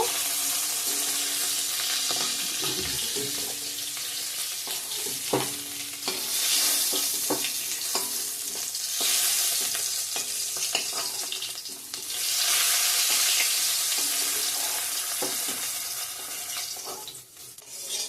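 Onion and bay leaf sizzling steadily in hot oil, a loud continuous frying hiss with occasional stirring scrapes and clinks, close up, no talk.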